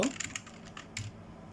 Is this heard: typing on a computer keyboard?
yes